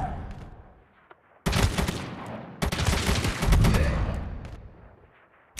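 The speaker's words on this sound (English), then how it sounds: "Let's try some accuracy shooting." Gunfire during accuracy shooting practice in the video game ZOZ: Final Hour, two loud sustained bursts of rapid shots separated by a brief pause, fading at the end.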